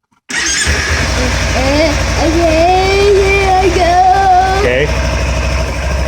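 A 2013 Kawasaki Ninja 300 motorcycle engine starts abruptly and settles into a loud, steady idle close by, with revs rising and falling slightly while a person speaks briefly.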